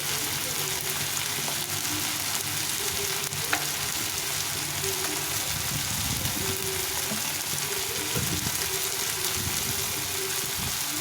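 Tomatoes frying in oil give a loud, dense, continuous sizzle close up, with steady stirring and scraping throughout and a few faint clicks.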